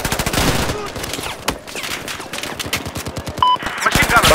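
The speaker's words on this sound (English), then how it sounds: "Machine gun." Machine gun fire in the video game Battlefield 4, rapid bursts of loud repeated shots with a brief pause, dense and close, with some talk in the background.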